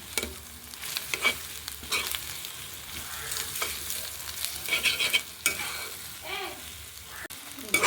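Beef brain frying with spices in a pan, a steady sizzle broken by repeated scraping stir strokes, close and moderately loud, with no talk over it.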